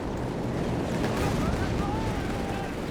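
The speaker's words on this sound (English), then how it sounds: "More bazooka fire on the Panzer 4 here." Bazooka rounds striking Panzer IV tanks in Company of Heroes 3, heard as a dense rumbling barrage of battle noise with booms under a commentator's steady voice, loud and unbroken.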